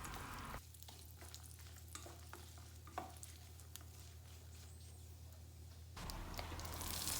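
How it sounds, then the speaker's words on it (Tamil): Fennel seeds, three dried chillies and broken cashews sauté in hot sesame oil, a soft, steady sizzle close by that swells louder near the end. "எண்ணெய் நல்லா சூடான அப்புறமா 1 ஸ்பூன் சோம்பு, 3 காஞ்ச மிளகாய், முந்திரி பருப்பு உடைச்சது ஒரு 10 சேர்த்து இதை நான் நல்லா வதக்கிக்கிறேன்."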